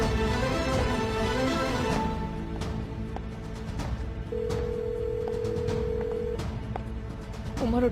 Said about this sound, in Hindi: उमर फोन उठाओ ना यार।